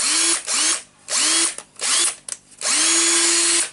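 A Makita DHR458 18V cordless drill in screwing mode whirs in four loud bursts, each motor whine rising in pitch as it spins up, with short silent gaps between and a longer final run.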